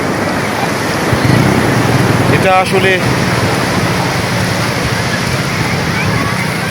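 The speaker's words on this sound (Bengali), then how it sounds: "এই যে সমুদ্রের যে আওয়াজ" Steady roaring surf on Cox's Bazar beach fills the air as a loud continuous wash, with someone speaking briefly over it.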